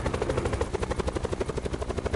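A helicopter in a video game flies with a loud, steady, rapid rotor chop that fills the brief stretch, with no voices over it.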